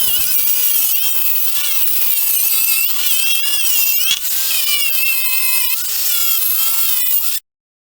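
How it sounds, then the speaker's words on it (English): An angle grinder fitted with a wire wheel scours underbody coating off the unibody rails of a Jeep XJ, a loud continuous high whine and scratch with slight pitch wavers, cutting off abruptly at the end. "I'm going to take an angle grinder and a wire wheel and see if I can take all that underbody"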